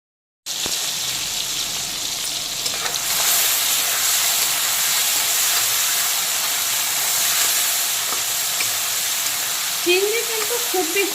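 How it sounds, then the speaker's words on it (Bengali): Shrimp coated in salt and turmeric drop into hot oil with a sudden loud hiss, then a sustained bubbling sizzle that keeps going, with faint stirring clinks and a brief voice near the end. "এখন আমি সবার প্রথমে লবণ আর হলুদ মাখানো চিংড়িগুলোকে ভেজে তুলে নেব।"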